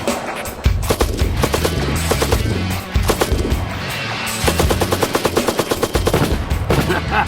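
A Russian PKM belt-fed machine gun fires 7.62x54 rounds outdoors in loud, rapid bursts, with sharp repeated cracks in several long strings and short gaps between them.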